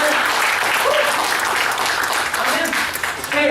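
Church congregation clapping together in praise, a loud, continuous burst of applause lasting a few seconds with voices mixed in.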